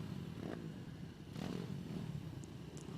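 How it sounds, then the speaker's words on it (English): Mini bike engines idle and rev on the start line at a British Mini Bikes Championship round at Whilton Mill, a muffled, distant engine drone with a few rising surges and faint clatter, no talk. "The revs rising as riders look at the lights, and we are about to get underway"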